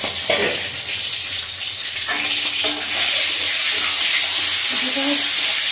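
Four eggs fry in hot oil in a pan, hissing and sputtering loudly and close, with the sizzle swelling and growing steadier about halfway through.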